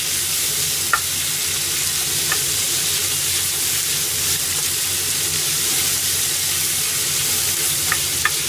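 Mapo tofu frying over high heat, a loud, steady, hissing sizzle filling the pan with a few faint clinks of stirring, close and continuous, with no talk.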